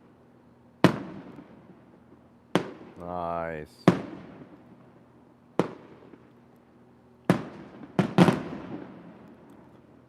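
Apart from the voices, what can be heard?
fireworks exploding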